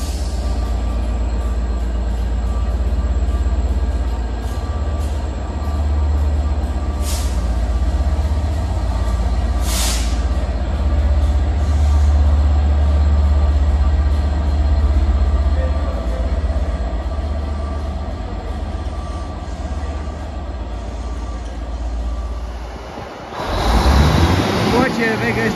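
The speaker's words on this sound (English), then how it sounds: "There goes 67025, working a test service from Crewe to Hereford." Class 67 locomotive 67025 on a test service from Crewe to Hereford rolls through Shrewsbury station with a loud, sustained low rumble and a couple of sharp clanks, ending in a brief burst of nearby noise.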